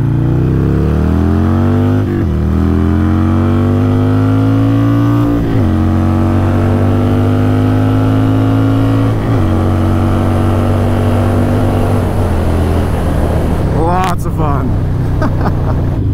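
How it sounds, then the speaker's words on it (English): A Harley-Davidson Iron 883 fitted with an SNS 1200 Hooligan kit pulls hard through the gears. Its loud, close exhaust note rises in pitch several times with brief dips at each shift, and a burst of wind noise comes near the end. "The exhaust on it sounds amazing. What's cool about it is it's actually really subtle. It's not like just overly loud and obnoxious."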